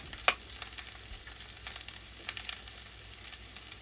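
Celery sizzles softly with onions in a frying pan while a utensil scrapes and stirs now and then, a low steady crackle that stays quiet and close with no speech.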